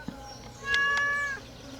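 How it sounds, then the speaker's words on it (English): A cat meows once in the farming video game Stardew Valley, a short, clear mewing call over quiet background music. "I'm breaking to say hi to the cat."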